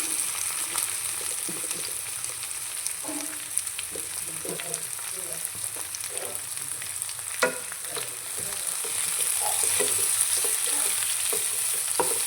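Ivy gourd (dondakaya) frying with onions in a pan, a steady close sizzle with scrape-and-clatter strokes of stirring scattered throughout, growing slightly louder toward the end; no talking.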